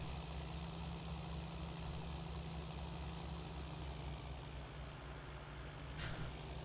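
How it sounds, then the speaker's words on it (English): A tractor engine idles steadily in Farming Simulator 19, a low continuous rumble with a constant hum that holds level throughout, with a brief faint hiss near the end. "I'm probably going to be using this tractor quite a bit."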